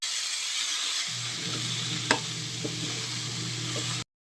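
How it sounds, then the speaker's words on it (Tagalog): Chayote sizzles as it is sautéed in a pan with onion and garlic, a steady frying hiss with a few light stirring clinks, ending abruptly. "Ginisa ko muna yung sibuyas at bawang. Sunod ay nilagay ko ang sayote."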